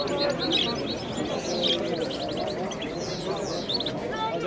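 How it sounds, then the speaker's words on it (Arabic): Songbirds at an open-air bird market in Sidi Bel Abbes, Algeria, including Algerian bulbuls, chirp and trill continuously in a dense, busy chorus over steady crowd murmur and background market noise. "هذا بلبل جزائري تاع البلاد تاعنا، جزائري، وكاين بلبل عراقي"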